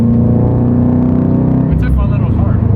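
2022 Subaru BRZ engine running on a dyno, a loud close engine note that drops in pitch as it comes off the rev partway through, with a brief high sound near the end.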